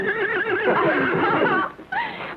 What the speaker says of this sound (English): A blonde horse.